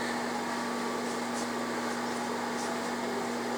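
A microwave oven hums steadily while popcorn cooks inside, an even mechanical drone with no talk over it.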